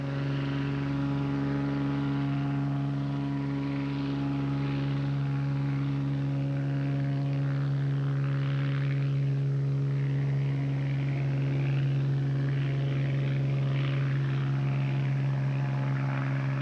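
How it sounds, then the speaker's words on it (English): A steady propeller engine of a bush plane taking off from Juneau harbor, Alaska, drones loudly and continuously, a constant low hum with no talking. "As your plane takes off from the busy Juneau harbor"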